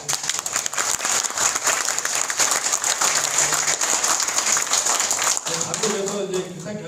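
Audience applause for Park Chan-dae at a talk concert political school event, a dense sustained clapping wash from start to near the end, loud and steady, with voices murmuring underneath as it fades.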